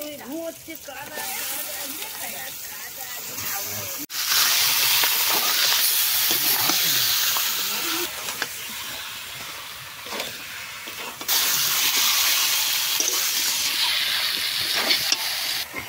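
Chicken pieces sizzle loudly in a pan of well-fried spicy masala, a steady hiss with stirring surges and a few sharp scrapes, nearly continuous throughout.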